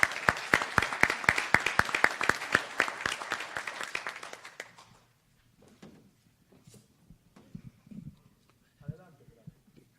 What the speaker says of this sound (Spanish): les pido que recibamos a nuestro panel con un fuerte aplauso